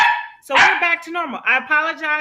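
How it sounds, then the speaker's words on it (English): Dog barking and yipping near a phone or microphone in an office setting, with several short high barks intermixed with a woman's apologetic speech. "That's my dog."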